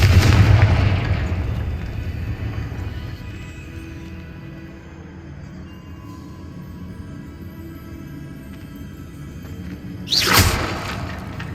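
A Confringo fire spell bursts in Hogwarts Legacy: a loud boom at the start fading into a rumbling tail, then a second sharp blast near the end, with no talk.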